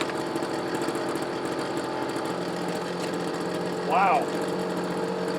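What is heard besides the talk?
leaf blower engine running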